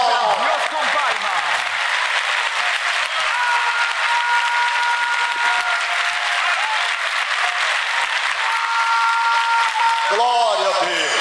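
A church congregation claps hands continuously for several seconds, a dense steady applause throughout, with a preacher's voice calling out over it.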